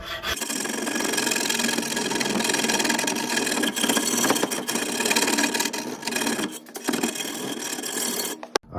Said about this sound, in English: I'm just gonna get the file because I do not think that I can fit the angle in there, and I'm just gonna slowly work my way down.